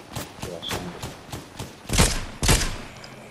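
Gunfire in a shooter video game: a string of light repeated shots, then two louder broadband bursts near the end, close and fairly loud. Faint game noise sits underneath.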